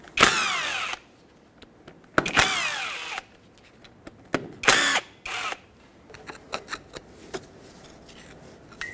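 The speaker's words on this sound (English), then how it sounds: "Use a T27 socket to remove all three fasteners." Impact driver or drill with a T27 socket spinning out three locking hub fasteners on a 2011-2016 Ford F-350 front hub, loud whirring bursts in separate runs, each with a rising whine, then quieter clicks and metal handling.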